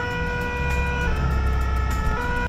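A Paris fire brigade engine sounds its siren in the small hours, a loud, sustained, wavering tone laid over a low rumbling engine, steady for the whole stretch with no voices.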